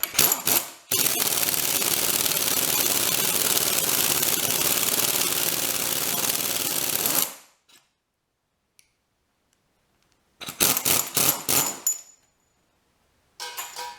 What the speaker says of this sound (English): And using the impact wrench to speed it up.